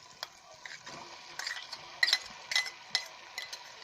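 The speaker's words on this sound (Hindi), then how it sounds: "और इसे थोड़ी देर फ्राई करेंगे।" Chicken and peas fry in a pan for chicken pasta, a soft steady sizzle close by, broken by scattered light clinks and scrapes of a spoon stirring.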